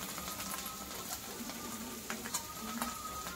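Ginger frying in oil in a pan used for paneer chilli, with a steady sizzle under a few light scrapes and clicks from stirring, close and fairly quiet.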